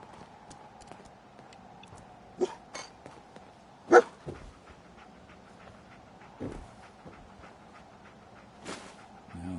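Companion dog in the video game Fallout 4, giving a few short barks and pants at irregular intervals, one louder bark standing out over quiet game ambience.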